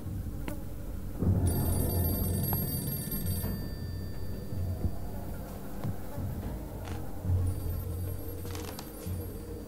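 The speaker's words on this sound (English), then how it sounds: "Phone is ringing somewhere." A telephone rings somewhere in an indie horror video game, its steady electronic trill coming in repeated bursts over a low, rumbling ambient drone.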